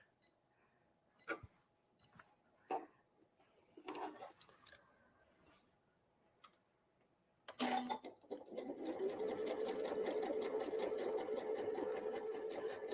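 Sewing machine running a quick seam on a cotton apron, a few short stop-start bursts first, then a steady, close, continuous whirring stitch for several seconds.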